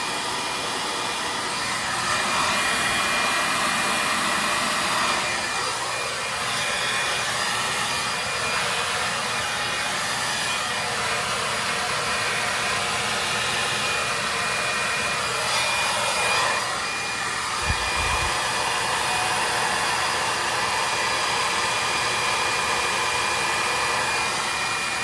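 Hair dryer blowing steadily on hair during a home blowout, a loud, continuous close-up whoosh that shifts slightly in pitch as it is moved around, with no talking.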